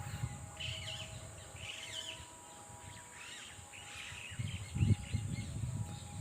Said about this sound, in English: Here some birds are flying there.